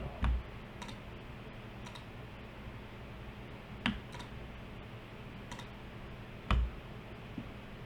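A computer mouse clicks in quick pairs and single taps, sharp and close, spaced a few seconds apart over a low steady hum.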